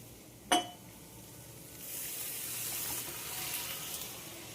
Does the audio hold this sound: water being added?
yes